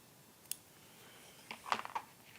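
Scissors trimming loose threads from a no-sew glasses case: a sharp snip near the start, then a cluster of quick, close snips and clicks near the end, fairly quiet against a soft room background.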